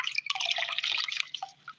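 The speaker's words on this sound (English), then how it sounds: "I'm going to take a sponge right now and dip it in this bucket of water." Water dripping and trickling off a sponge just dipped into a bucket during a pottery-making session, a close, brief run of splashy drips fading out near the end.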